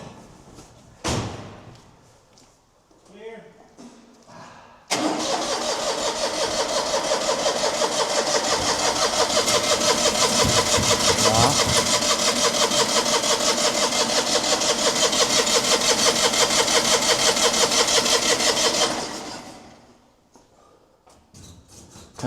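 A Panhard car engine is started with the choke pulled. After some clattering and cranking, it catches and runs loud and steady for about fourteen seconds, then cuts out.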